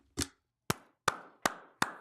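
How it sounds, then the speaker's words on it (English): A clapping sound effect: five crisp, isolated claps spaced unevenly across two seconds, each a sharp close slap with a short decay and silence between them. "Can we get a sound effect? Where's my clap?"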